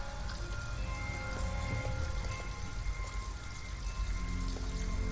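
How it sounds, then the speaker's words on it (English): Rain falls steadily in the video game Detroit: Become Human, an even patter of drops on surfaces with faint tonal background hum and no voices. "At least we'd be out of the rain."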